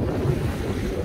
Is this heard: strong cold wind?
yes